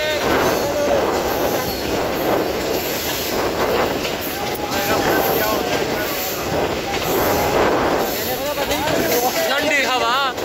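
The Ravi Express passenger train on the Pakistan railway rolls through jungle with a steady loud rumble, rhythmic wheel clatter and occasional wheel squeal throughout, heard from on board or close by.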